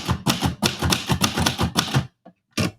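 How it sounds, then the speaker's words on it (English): Typewriter keys clack in quick, loud bursts of close strikes, followed by a short pause and a final pair of taps, with no talking over them. "I brought the typewriter."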